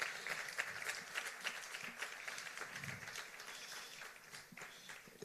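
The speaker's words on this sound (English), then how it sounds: "Let's give him another round of applause." Faint audience applause for a presenter at a music industry intellectual property event, a thin, distant wash of clapping running steadily throughout.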